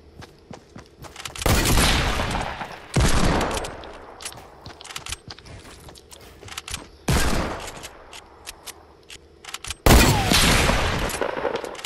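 Sniper rifle shots ring out in Fortnite as several loud, sharp cracks spaced a few seconds apart, each followed by a short decaying tail, with quieter clicks and movement between them.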